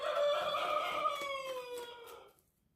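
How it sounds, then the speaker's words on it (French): A rooster crows once in a long, drawn-out, complaining call after his hens stole his treat, close and loud before it cuts off into silence. "Il s'est fait voler la gourmandise que je lui ai mis par ses copines les poules. Donc il râle."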